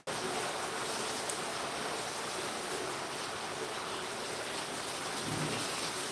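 Steady rain falls continuously in Bayelsa State, Nigeria, a dense, even hiss of drops on surfaces that stays loud and unbroken with no voices.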